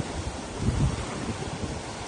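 Strong sea waves at a beach give a continuous broad roar of surf mixed with wind buffeting the microphone, a slightly louder surge passing midway and no voices.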